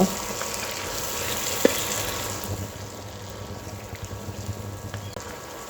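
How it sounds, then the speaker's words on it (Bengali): Beef pieces fry with browned onions in a pan, giving a continuous close sizzle. One sharp clink of a utensil sounds early, and soft stirring scrapes follow under the steady hiss. "পেঁয়াজটা ব্রাউন হয়ে গেছে এখন এখানে মাংসগুলো দিয়ে দেবো এখন এগুলোকে নেড়ে ছেড়ে নেব"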